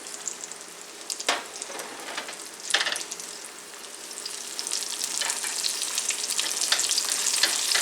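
An egg frying in a hot pan beside bacon and a hash brown, a loud steady crackling sizzle that swells toward the end, with a couple of sharper spits and no voices.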